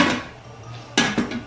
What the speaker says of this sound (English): So then you put the lid on.